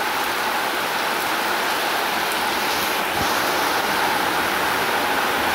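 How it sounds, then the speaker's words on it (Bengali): Steady rain falls over rural Bangladesh on an autumn morning, a dense, even hiss of drops on surfaces that holds constant with no pauses and no voices. "কি মনোমুগ্ধকর বৃষ্টি"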